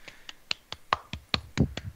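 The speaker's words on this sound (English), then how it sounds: "you get a golf clap and an attaboy" Nine slow, light hand claps, evenly spaced and fairly close, a sparse polite golf clap with no voices.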